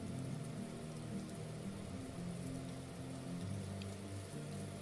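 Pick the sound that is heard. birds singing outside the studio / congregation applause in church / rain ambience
rain ambience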